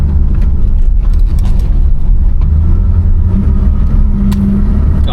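A 1982 Corvette's engine rumbles steadily from inside the car while driving, a loud, constant low drone with road noise and slight shifts in pitch, no talking.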